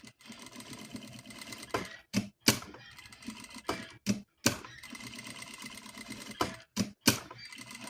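A sewing machine stitching red plush fabric runs in short rapid bursts of mechanical clatter, broken by brief silent pauses, close and fairly quiet.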